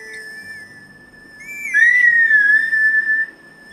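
A grass whistle blown in The Legend of Zelda: Twilight Princess plays a clear, steady high-pitched tone that rises into a louder sustained wavering note, alone with no talking.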